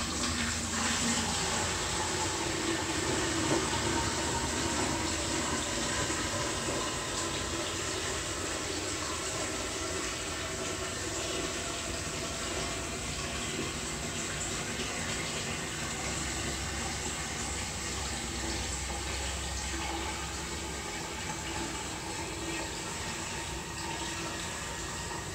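Water pours steadily into a container being filled about halfway on a lawn-care job, part of mixing a plant growth regulator and urea solution for bermudagrass. A continuous rushing fill runs close and fairly loud throughout, with no voices.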